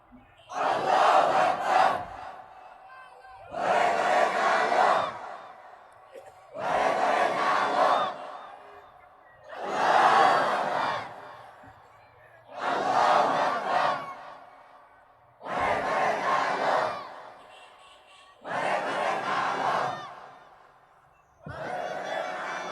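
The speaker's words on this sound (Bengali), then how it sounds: "তাকবীর মারো।" A large crowd at a Bengali Islamic sermon gathering shouts takbir in unison, eight loud roaring calls that come in a steady rhythm and are separated by short pauses.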